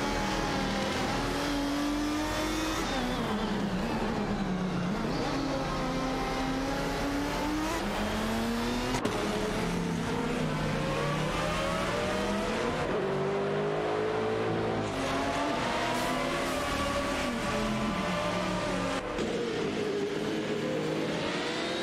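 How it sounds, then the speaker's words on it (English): Three AI race cars in a racing video game scream down a straight within a second of each other, engines droning loud and continuous with rising and falling pitch as they accelerate and shift, no voices. "The three cars are within a second of each other as they head down the straight"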